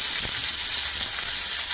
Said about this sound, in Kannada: ಈಗ ನೆಕ್ಸ್ಟು ನಾನು ಇದಕ್ಕೆ ಆನಿಯನ್ ಹಾಕ್ತಾಯಿದ್ದೀನಿ